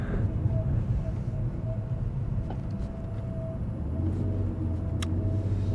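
A 2005 BMW ZHP cruises through a neighborhood, heard from inside as a steady low engine drone and road rumble, with a few faint rattles and clicks over it.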